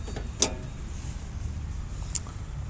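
An excavator engine runs quietly and evenly: a low, steady rumble holds throughout, with a single sharp click near the start.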